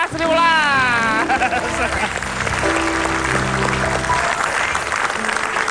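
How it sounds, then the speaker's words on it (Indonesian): A studio audience on an Indonesian comedy television show claps loudly throughout, with talk and music mixed under the applause. "Tepuk tangan dulu dong untuk Asri Welas."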